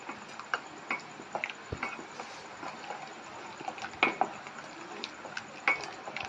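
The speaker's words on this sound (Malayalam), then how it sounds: "ഇത് നല്ലോണം ഇളക്കണം. നല്ല പോലെ ഇളക്കണം." A spoon clinks and scrapes against a pot while stirring a pineapple pudding mixture of milk, china grass and sugar, soft irregular ticks and taps with no talk.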